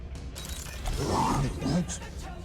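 A door-opening mechanism in Marvel's Guardians of the Galaxy grinds and creaks, a mechanical ratcheting groan that swells through the middle of a couple of seconds, with voices under it.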